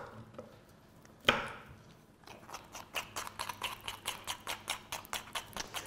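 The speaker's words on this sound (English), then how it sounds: "can you just cut up some broccoli for me?" Broccoli being chopped with a knife on a board, a steady run of crisp, close chops after a single sharp knock, with no talk.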